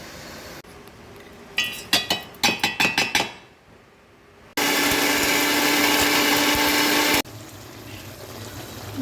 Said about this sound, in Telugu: ఈలోపు మనం దీన్ని మిక్సీ పట్టుకుందాం